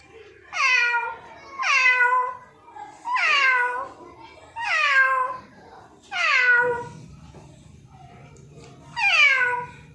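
A boy at a school in Kannolli, Sindagi taluk, Vijayapura, mimics a cat, giving six drawn-out meows in a slow, even rhythm, each one falling in pitch, with short pauses between them.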